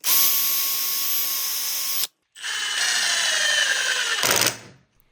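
Power drill with a 1/8 inch bit boring into pine, two close, loud continuous whining bursts separated by a short pause, the second ending in a brief harsher grind before stopping.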